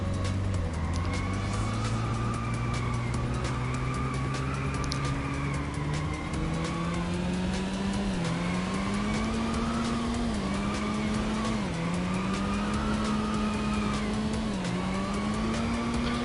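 In the racing game Inertial Drift, a car engine drones continuously while its revs climb and dip through repeated drifts, with tire squeal running under the engine throughout, steady and close.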